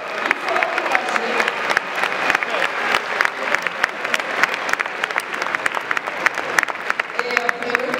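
An audience at UNESCO in Paris applauds the Congo delegation at a diaspora gathering, dense continuous clapping from a large crowd throughout, loud and close, with no clear talk over it.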